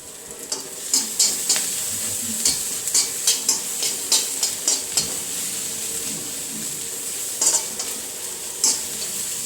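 Noodles tossed with masala powder are stirred in a pan over a steady sizzle, with a quick run of repeated metal scrapes and clinks from the spoon, close and fairly loud.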